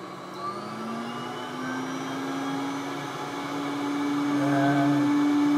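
A Player-Care vacuum pump kit runs with a steady droning whir and hum, loud and close, with its tone rising slightly toward the end.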